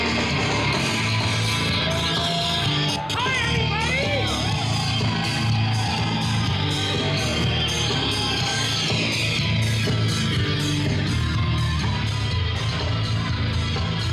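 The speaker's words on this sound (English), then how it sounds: "An enormous crowd is here." A large crowd at a TWF pro wrestling show in Sacramento roars and yells in a steady, loud wash that runs the whole time, with a voice speaking over the noise.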